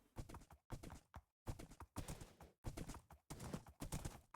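Horse hooves clip-clop in modded Minecraft (TerraFirmaCraft), a game sound effect made of quick, regular bursts of hoofbeats with brief pauses between runs, close and clear.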